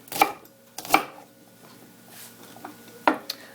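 Knife slicing through goya or tomato on a board, three sharp distinct cuts spaced about a second apart with a few softer taps between, close and clear in a quiet kitchen.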